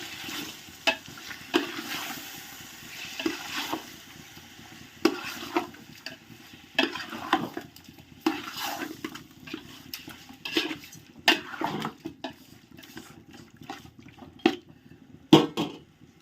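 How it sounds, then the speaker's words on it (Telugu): Spoon stirring and mixing a chicken marinade in a metal pot, giving repeated scraping clinks and soft wet slaps at an uneven rhythm, close and moderately loud with no talking. "బాగా కలుపుకోవాలి."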